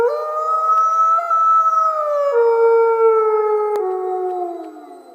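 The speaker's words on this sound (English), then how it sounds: "To finish the beat, I added like this wolf howl." A sampled wolf howl sits in a dark guitar beat: long sustained howls glide and bend downward in pitch, loud and continuous over about five seconds before fading out.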